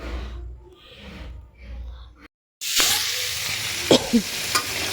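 Boiled green jackfruit sizzles and crackles in hot oil in a pan after a brief silence, with a few stirring scrapes and clatters of a utensil nearby.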